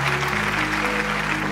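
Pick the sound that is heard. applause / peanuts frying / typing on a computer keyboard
applause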